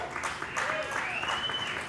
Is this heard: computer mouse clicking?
no